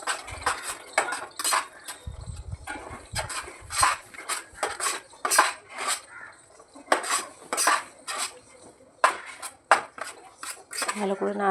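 A utensil scrapes and clinks steadily against a pan while palak paneer, thickened with a spoonful of wheat flour, is stirred. The strokes are dense, close and repeated, with no talk.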